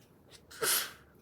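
A single sneeze bursts out mid-clip at close range in a classroom during a math lesson, sharp and loud against quiet room tone.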